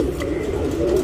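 A Dhoomali Pilanka Patta tournament pigeon in Bangalore coos nearby, a continuous low throaty burbling that holds steady for about a second.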